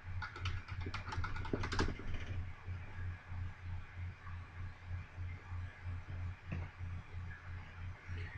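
Keys clatter in quick bursts of typing on a computer keyboard at a Windows desktop, busiest in the first two seconds and then sparse, over a steady low electrical hum.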